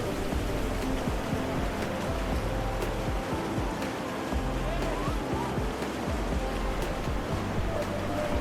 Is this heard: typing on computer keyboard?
no